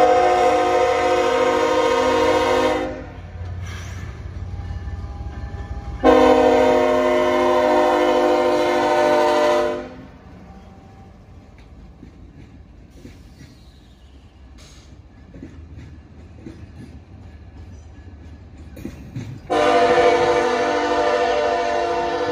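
A Norfolk Southern freight train rumbles past while its horn sounds in long, loud blasts, three separate sustained honks with quieter rolling rumble in between.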